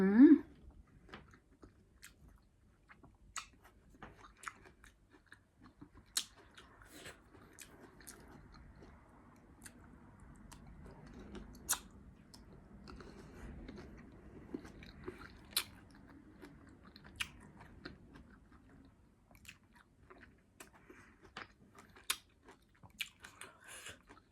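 Someone chewing and biting into cherry-flavoured ice cream, with soft crunchy bites and wet mouth sounds recurring close to the mic over about twenty seconds, punctuated by occasional sharp clicks.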